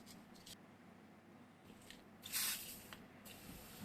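A homemade WD-40 substitute sprays from a hand-pumped aerosol can in a short burst, with a few faint hissy puffs before it, over a quiet background.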